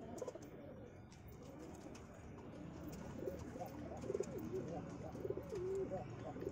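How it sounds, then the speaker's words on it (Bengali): Giribaj pigeons coo in soft, repeated rolling calls after being let out, fairly faint over a low background hum, growing a little more frequent toward the end. "পায়রা ছেড়ে দেখানো হচ্ছে।"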